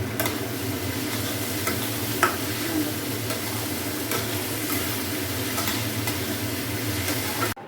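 Turmeric-coated food frying in a pan is stirred by hand rather than with a spoon, producing a continuous near sizzle with soft rustling stirs and no talk, cut off abruptly at the end.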